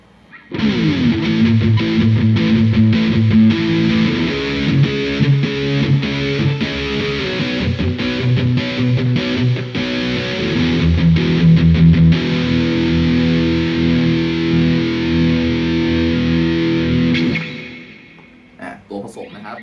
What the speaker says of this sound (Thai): เดี๋ยวลองฟังเสียงแตกดู